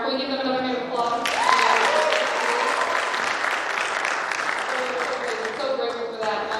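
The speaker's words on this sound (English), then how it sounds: "Can we give them another hand of applause?" Audience applause for a gospel choir in a campus chapel, a sustained dense wash of clapping that swells and holds steady for several seconds, with a voice speaking over it at the start.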